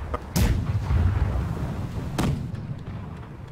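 Two heavy ship cannon blasts firing grapeshot in the video game Blackwake, about two seconds apart, each a deep boom with a crack, over a steady low rumble.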